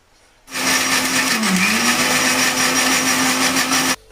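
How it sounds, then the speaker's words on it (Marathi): A kitchen mixer grinder whirs loudly as it grinds mud crab legs for juice, starting abruptly, running at a steady high-pitched drone for about three and a half seconds, then cutting off. "मी आहे म्हणून आता लावतोय मिक्सरला"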